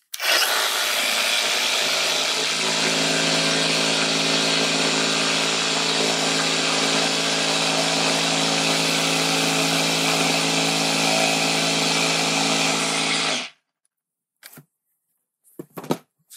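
A jigsaw cuts through a board along masking tape in one loud, continuous, buzzing run of about thirteen seconds, then stops abruptly, followed by a couple of brief handling knocks.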